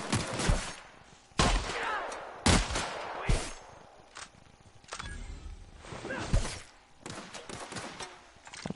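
Enemy gunfire in The Outer Worlds video game: a rapid series of sharp shots in irregular bursts, fairly loud and close, with no talking.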